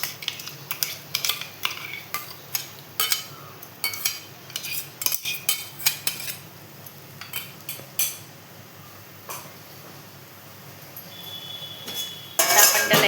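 Mango pulp and sugar being stirred together in a pan: a spoon scrapes and clinks against the metal in an uneven, repeated rhythm, close and fairly quiet, with no talking.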